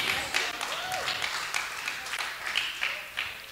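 A church congregation claps hard in a dense, steady burst of applause with some voices mixed in.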